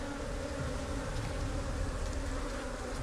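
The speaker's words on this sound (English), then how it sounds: "It's a good chunk of bees right there." Honey bees swarm around an opened hive frame, filling the air with a dense, continuous buzzing drone that stays loud and steady throughout with no voices.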